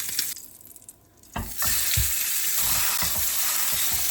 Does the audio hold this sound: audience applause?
no